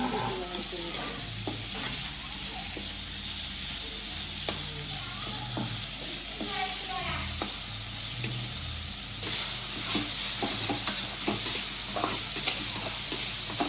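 Carrots are sautéed in ghee in a pan, giving a continuous frying sizzle and hiss broken by frequent scraping, clinking stirs of a utensil, close up and with no talking.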